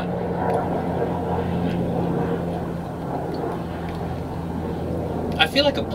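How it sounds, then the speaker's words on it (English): Propeller airplane flying overhead, a steady low drone with a constant hum holding throughout at moderate loudness, with a few brief louder knocks near the end. "I feel like a plane is gonna crash in my backyard in a moment."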